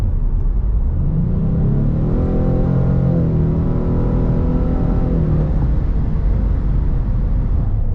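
A 2024 Ford Mustang EcoBoost engine accelerates from inside the car, a loud rising drone that climbs through the revs, holds, then eases off into a steady road rumble.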